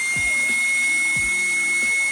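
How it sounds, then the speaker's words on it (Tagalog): A high-pitched electric motor of an INGCO AB8008 800W vacuum blower whines steadily throughout, with a few dull low thumps and scraping bumps as something is pushed across a carpet. "malakas yung vacuum niya."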